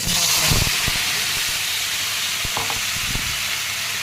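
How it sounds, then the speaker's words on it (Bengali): Steady loud hiss and sizzle of black cumin seeds dropped into leftover fish-frying oil, with a few clicks and scrapes of a utensil over the continuous crackle. "দেখো মাছ ভেজে যে তেলটা রয়েছে ওর মধ্যে আমি সামান্য কালো জিরে দিয়ে দিলাম।"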